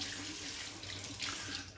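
Tap water runs steadily into a sink during a wet shave, a continuous close splashing hiss that stays fairly even throughout with no voices.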